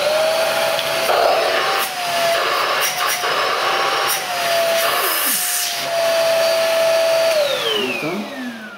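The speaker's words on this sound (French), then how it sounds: "Ensuite il suffit de le brancher et on a un aspirateur 500 watts" A Deepoo D 76 500-watt handheld vacuum cleaner runs close by with a steady whine, its pitch dipping and rising as it works, then winding down at the end.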